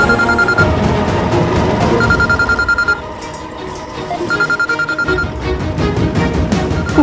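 A telephone rings in repeated bursts of bright electronic trills, loud and close, with a short lull in the middle before the ringing resumes.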